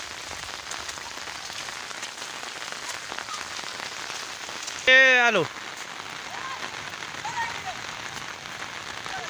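Heavy rain pours down steadily, making a dense, even hiss of drops on surfaces throughout. Partway through, a man briefly calls out over the downpour.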